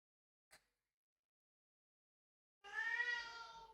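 A pet cat gives a single close, clear meow, preceded by a faint brief tap and otherwise quiet surroundings.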